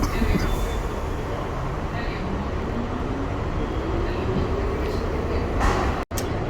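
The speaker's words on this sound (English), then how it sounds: "That's why the tram's pretty quiet, because it's just got one more stop to go." A train runs toward the South Ferry terminus in Manhattan, giving a continuous close rumble and rushing rail noise that holds steady for several seconds, with a faint rising tone and a brief dropout near the end.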